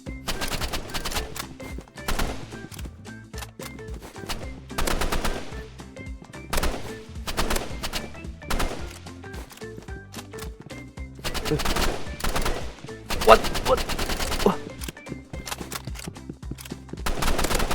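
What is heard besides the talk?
gunfire in Roblox Rivals video game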